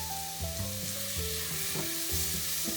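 Turmeric and masala spices are stirred in a pan for a sweet potato and lentil soup, a soft, quiet sizzle with a few light scrapes beneath a steady tonal hum, and no talking.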